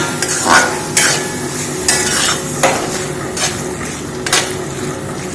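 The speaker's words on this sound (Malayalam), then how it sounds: "ഇതിലേക്ക് ആട്ടിൻ്റെ ഈരലാണ്, അത് വറുക്കുകയാണ് ചെയ്യണത്." Mutton liver frying in a pan for a pepper fry, with steady sizzling broken by several loud scraping stirs of a spoon against the pan at roughly regular intervals.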